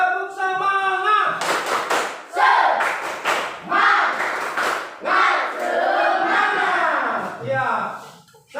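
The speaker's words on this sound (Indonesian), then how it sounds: "kita tepuk semangat dulu" A school class doing tepuk semangat, rhythmic spirit clapping mixed with loud group chanting and shouting in bursts, close and energetic.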